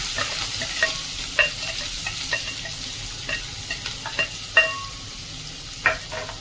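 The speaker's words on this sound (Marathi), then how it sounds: "अशा पद्धतीने कांदा छान परतून घेऊया मीडियम आचेवर कांदा परततोय" Onion with garlic, curry leaves and bay leaf sautéing in a pan over medium heat, a soft steady sizzle broken by irregular stirring clicks and scrapes of a spoon against the pan, close and fairly quiet, with no talking.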